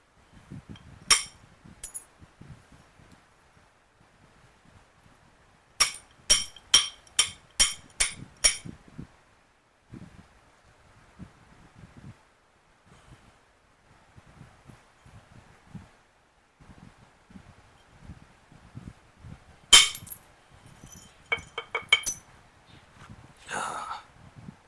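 Obsidian knife blade being trimmed by flintknapping, heard as sharp glassy clicks and taps in quick clusters with quiet pauses between, close and fairly crisp.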